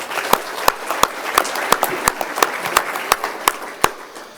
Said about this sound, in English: So round of applause for Josh one more time.